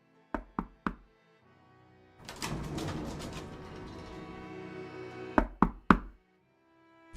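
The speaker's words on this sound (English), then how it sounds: "I heard someone knocking at the door" Knocking on a door in the adventure game Bohemian Killing: three sharp knocks, a stretch of murmuring sound in between, then three more crisp knocks close by.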